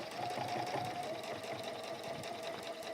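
A domestic sewing machine runs steadily while top stitching fabric for a hexagon needle keep, its rapid even needle rhythm close and continuous for the whole stretch.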